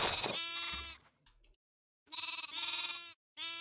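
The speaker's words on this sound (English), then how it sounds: "I'm getting a lot of sheep out of this one seed." Sheep in the Minecraft video game bleat twice in clear, loud, wavering calls separated by a brief silence, with a third call starting at the end.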